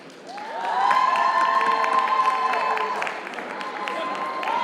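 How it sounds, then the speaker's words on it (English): A comedy show audience claps, screams and cheers on cue, a loud crowd roar with high shouts and whoops that swells and holds, while a sustained tonal sound runs underneath. "I want you guys to clap, scream, cheer, throw your friends into the air, whatever"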